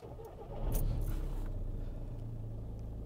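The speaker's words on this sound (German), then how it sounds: "Bitte einmal das Auto anmachen." A Volkswagen Golf 5 car engine cranks and starts, with a brief whirring crank followed by a loud catch, then settling into a steady low idle rumble that continues to the end.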